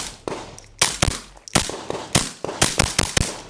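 Rapid .22LR rifle shots fired through a Taquito suppressor, about a dozen sharp muffled cracks in quick, uneven bursts, close and loud with no talk.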